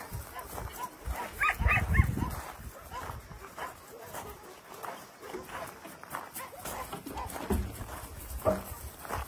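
A group of beagles barks at a shelter, with a cluster of loud close barks early on, then steady lighter barking and occasional whimpers throughout.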